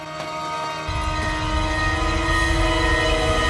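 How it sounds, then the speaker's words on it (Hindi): A train pulling out of a station, its long horn sounding loud and steady throughout while a deep rumble of wheels and carriages builds beneath it after the first second, with no talk. "चलो ट्रेन निकल रही है"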